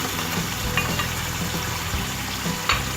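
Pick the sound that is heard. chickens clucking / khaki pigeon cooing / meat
meat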